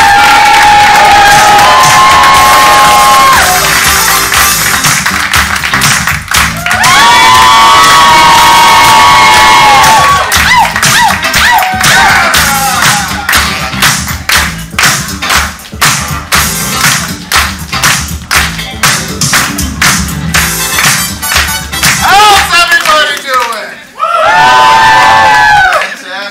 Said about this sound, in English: Get your hands clapping. Make some noise for